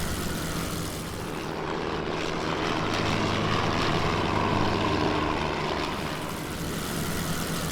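A World War I airplane engine in the Wings Over Flanders Fields flight game drones steadily and loudly with a broad, rumbling propeller roar that holds throughout with no pauses.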